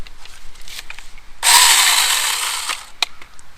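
A Tomyvic 6-inch mini chainsaw bites into a branch, its buzzing whine rising sharply and holding for over a second before easing off, with light clicks and handling noise around it.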